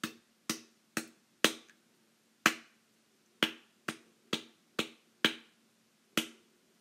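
Sharp, crisp taps sound alone in a steady ti-ti-ta rhythm pattern for a music lesson, about a dozen clean clicks with short gaps and slightly longer pauses between groups, close and moderately quiet.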